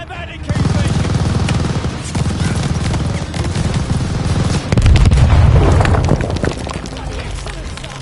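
Machine gun fire and explosions in a World War II-style shooter video game, a dense continuous rattle of shots with heavy booming thuds, loud throughout beneath shouted voices.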